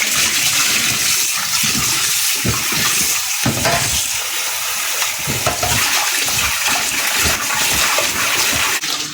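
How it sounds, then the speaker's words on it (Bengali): Water poured steadily into a pot of fish for a kaila curry, a continuous close rushing and splashing stream lasting the whole stretch, loud and without talk. "পানি দিতেছে এখন।"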